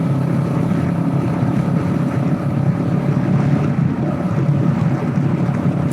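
A 2024 Kawasaki Eliminator 450 motorcycle engine drones steadily at high revs while riding, its buzzy hum partly buried under constant loud wind rush at the microphone.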